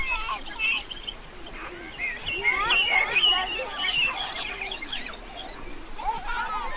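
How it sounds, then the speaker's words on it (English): Birds chirp and tweet in spring, with scattered bright calls spread across the clip at moderate distance over a steady outdoor background. "In May, do you hear the birds?"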